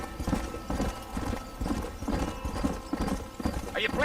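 A horse galloping in the Red Dead Redemption game, with continuous rhythmic hoofbeats close by and a brief whinny near the end, under a steady background.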